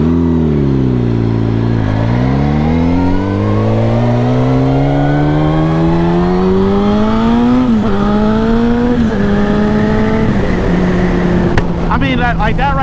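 A turbocharged Suzuki GSX-R 1000 motorcycle accelerates hard, its engine note rising smoothly through long pulls with brief dips at gear changes, loud and close, with a rider talking over it.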